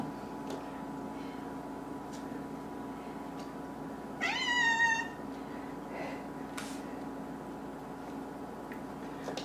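A single cat meows once with a rising, harmonic call, standing out briefly over a steady low background hum.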